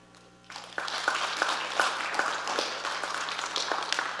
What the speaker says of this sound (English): we also have to give a big round of applause to our principal